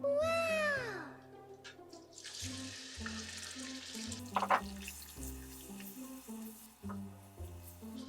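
Chicken liver fries in a pan, a soft hiss rising midway beneath louder background music that carries through the whole stretch.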